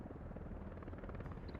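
A helicopter at a helipad in the game Workers and Resources, a steady rotor thrum holding at one level throughout, fairly faint, with no talk.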